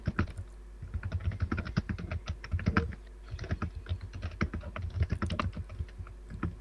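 Loud, rapid computer keyboard typing clatters continuously in dense bursts of keystrokes, close and clear with a brief pause midway.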